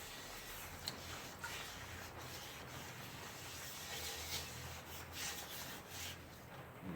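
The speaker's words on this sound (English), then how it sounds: "Just give them a quick scrub in between." Cast iron skillet being scrubbed to remove rust after soaking, giving a steady, close rubbing and scraping sound with a few sharper strokes, with no talking.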